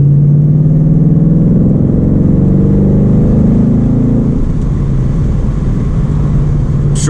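A Ford Mustang with a Coyote engine accelerates with a loud, steady in-cabin engine drone. Partway through, the pitch drops as it is short shifted, and the engine keeps pulling afterward.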